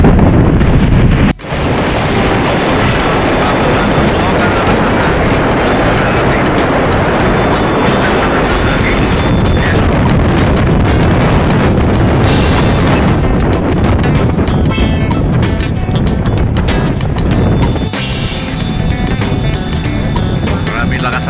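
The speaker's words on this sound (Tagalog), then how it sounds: "Maraming lakas ang hangin." Loud, steady wind roars across the open deck of a passenger ship at sea, buffeting the microphone with a constant rush and low rumble that barely lets up.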